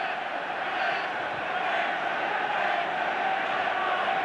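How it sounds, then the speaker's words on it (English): Rugby league Test crowd, Great Britain against Australia in 1990, roaring and screaming in a steady dense wall of noise across the stadium. "The crowd, who have been quiet here at half-time,"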